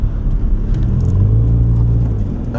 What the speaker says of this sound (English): this truck's trying to kill me.